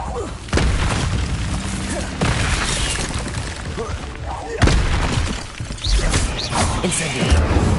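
Expelliarmus disarming spell cast in Hogwarts Legacy, a series of loud magical bursts and crackling impacts with shattering and booming hits, close and dense throughout.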